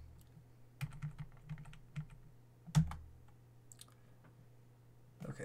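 Short bursts of keystrokes on a computer keyboard as a command is entered into network security device software: quiet, irregular clicks with pauses, one louder tap near the middle, and no voices.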